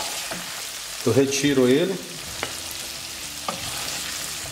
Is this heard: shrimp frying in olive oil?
yes